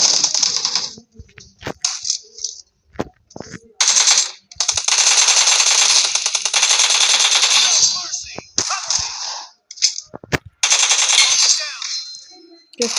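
Bursts of automatic M4 rifle fire in a PUBG-style team deathmatch game, loud and close, coming in long sustained strings and shorter rattles separated by brief pauses, with a little talk between them.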